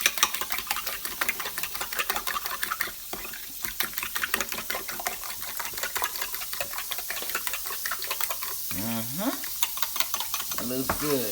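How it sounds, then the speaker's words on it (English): Eggs being scrambled in melted butter in a pan, giving a dense, constant sizzle with rapid scraping and stirring strokes throughout, close-up and unbroken. "We're going to scramble our eggs up here."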